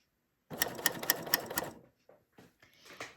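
Coverstitch sewing machine stitching over a garment seam, a loud close burst of rapid needle stitching for about a second and a half, then a few short quieter mechanical clicks and a brief final run.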